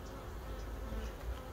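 Honey bees swarm over an open hive frame during a colony inspection, producing a soft, continuous drone of buzzing that stays low and even throughout.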